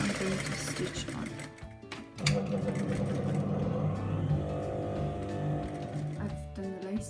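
Sewing machine stitching a second layer of lace onto Afghani trousers, a steady mechanical whirring run that pauses briefly and restarts, heard close and continuous at moderate volume.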